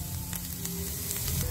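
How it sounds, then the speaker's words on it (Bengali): Food frying in oil in a wok (kadai), a steady close sizzle and crackle that continues unbroken without any talk. "দিয়ে এবার ভাজছি, একটু ভেজে নেব"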